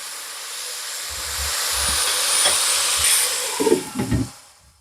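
Green peas hitting hot oil in a covered pan on the stove, a loud steady sizzling hiss that swells into sharp spattering crackles near the end before dying down.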